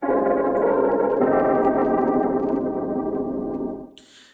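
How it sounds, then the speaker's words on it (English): Scorch plugin random granulizer effect adds a gritty, grainy, smeared chordal texture with delay trails, sustained and fairly loud, fading out after a few seconds into a brief high noisy tail. "So you hear some grittiness coming in there. You have some delay going."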